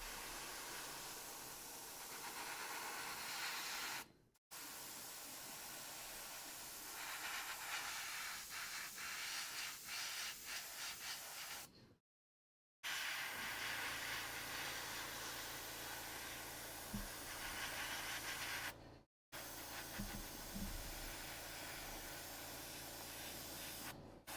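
Airbrush spraying thin miniature paint, a soft continuous hiss in several bursts separated by brief silent gaps, close and steady with no talking.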